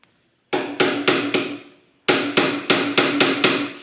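Nails are driven with a hammer during a granite installation, two close series of loud, evenly spaced blows, four then six, with a pause between them.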